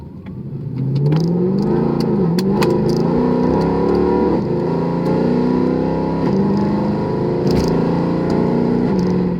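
A 2012 Mercedes W204 C63 AMG engine revs loud and close, its tone climbing steadily then dropping at each gear shift, repeating through several upshifts with a brief crackle between.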